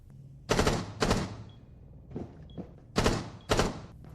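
Rainbow Six gunshots in a small, dry room: four sharp, tight bursts in two pairs with almost no echo, separated by quieter thuds and clicks, with no voices.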